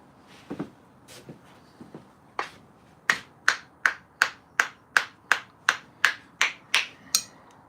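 A few scattered sharp taps, then a steady run of about a dozen evenly spaced hammer strikes, crisp and close with short ringing decays, in an otherwise quiet indoor space.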